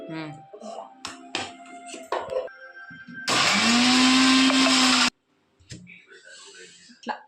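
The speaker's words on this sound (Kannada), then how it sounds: "ಇದು ಗ್ರೈಂಡ್ ಮಿಕ್ಸಿಗೆ ಹಾಕ್ಬೇಕು" After a stretch of voices talking, a mixer grinder blending mushroom biryani paste kicks in with a loud, steady motor whine for about two seconds, then stops abruptly as talk resumes.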